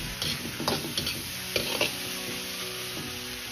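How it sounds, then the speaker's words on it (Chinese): Green chili peppers stir-fried in a wok after fermented chili sauce has gone in: a constant hiss of sizzling oil with irregular scraping and tossing strokes of the spatula, close up and steady, with no talking. "炒香后倒入杭椒和小米辣，炒出清香味，炒至稍微断生。"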